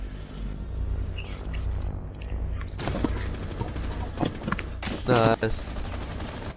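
Rapid gunfire in the Rainbow Six Siege video game crackles in quick bursts, growing louder and denser toward the end, while players talk over it.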